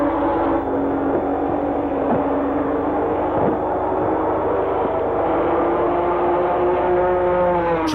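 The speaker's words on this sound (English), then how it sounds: "Tracking the leading Matra of Pescarolo and Larousse along the Mulsanne Straight at over 340 kilometers an hour" The leading Matra racing car of Pescarolo and Larousse runs down the Mulsanne Straight at over 340 km/h during the 1974 Le Mans race, a steady droning engine note held throughout with no talking and a dull, narrow-band sound.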